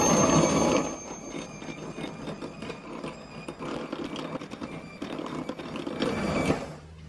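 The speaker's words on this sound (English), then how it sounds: "we're going to add our remaining sugar to the egg yolks, and we're going to whisk this till it's nice and pale" Egg yolks and sugar are whisked in a bowl for a tres leches cake, making a steady rapid mechanical whirring with a busy rattling texture, loud at first and then continuous and even until it stops near the end.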